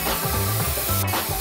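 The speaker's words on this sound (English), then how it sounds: "Cue the stencils and spray paint." Aerosol spray paint hisses through stencils while customizing a room, a steady close spray running the whole short stretch without pause.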